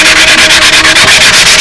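Hand sanding on a homebuilt aircraft's rudder and aft fuselage rasps in quick, even back-and-forth strokes, loud and close, with no talking.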